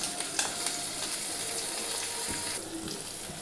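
Chopped tomato hits a pan of reddish fried onions, and a dense continuous sizzle carries on close and even for a few seconds without any talking.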